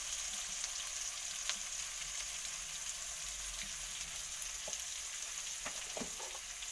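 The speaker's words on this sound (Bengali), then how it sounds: "কিছু তেল দিয়ে দেব লাল লাল হয়ে যাবে তাড়াতাড়ি ভাজা হয়ে যাবে" Onions with a bay leaf and whole garam masala frying in oil for a mutton curry, a soft, even sizzle with occasional faint pops and stirring clicks.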